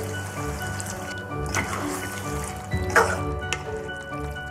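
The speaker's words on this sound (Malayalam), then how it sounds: "നമുക്ക് ഈ മിക്സിയുടെ ജാറിലേക്ക് തന്നെ ഒരു കുറച്ച് വെള്ളം ഒഴിച്ചിട്ട്" Half a glass of water poured from a mixer jar into a mutton curry cooking in the pot. The liquid splashes and sizzles briefly against the steady hiss of the hot curry.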